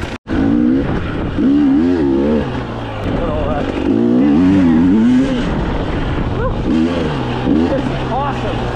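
An off-road motorcycle rides through wet springtime trails in Ontario during a dual-sport ride event, its engine revving and surging continuously up and down close by, with a voice speaking over the engine throughout.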